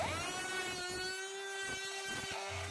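The 1.3 kilowatt brushless motor of a revised open source electric screwdriver spins steadily, a clear whining hum with strong harmonic tones holding throughout, close and even.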